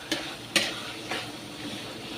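Shrimp paste and tomatoes are stirred in a pan, with a few sharp scrapes of the utensil over a soft, steady sizzle.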